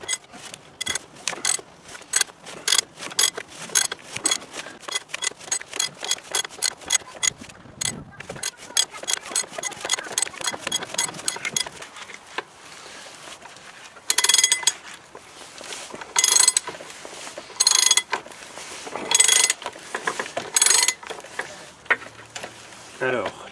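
A heavy-duty ratchet turns a puller on the front axle of a Citroën Traction, clicking in quick rhythmic runs separated by pauses, close and fairly loud, with a voice talking in places.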